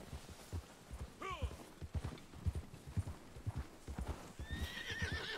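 A horse in the Red Dead Online video game walks with steady, close clip-clopping hooves, giving a sharp whinny early on and another high neigh near the end, with faint talk in the background.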